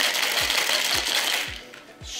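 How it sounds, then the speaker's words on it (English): A cocktail shaker holding a hazelnut espresso cocktail with ground-hazelnut syrup and espresso mix is shaken hard, making a loud, steady rattling rush with regular thumps about every half second before it eases off. "And let's shake that up."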